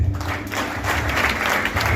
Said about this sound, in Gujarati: તાળી તો બરાબર પડી જોઈએ.